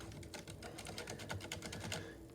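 Rapid, muted keystrokes on a Ducky One 2 Mini keyboard with silent red switches, a soft, dense patter of close-up typing with no voices over it.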